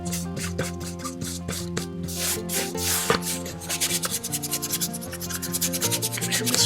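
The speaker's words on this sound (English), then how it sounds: "Scrubbing it on there, getting it in." Paintbrush scrubbing acrylic paint onto a cheap dollar-store canvas, steady rhythmic back-and-forth rubbing strokes, close and continuous over quiet background music, with no talk.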